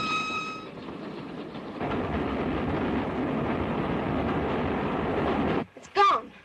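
A moving passenger train rumbles steadily in a 1938 setting, a continuous rolling noise with wheel clatter that cuts off abruptly near the end before a short whistle-like burst.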